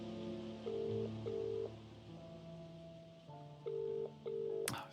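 A telephone rings inside a video game. Its repeated electronic tones come in short bursts over a layered musical background, and no one speaks.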